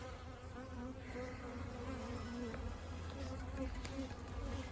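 Honey bees buzz around beehives at a farm, a dense, continuous droning hum from many insects close by with individual bees passing near.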